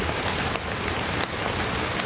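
Rain falling steadily, a dense close hiss of drops striking surfaces with a constant, even patter and no voices.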